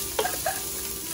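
Garlic sizzling in hot oil with a soft, steady hiss, broken by a couple of brief scraping stirs early on; quiet and close, no voices.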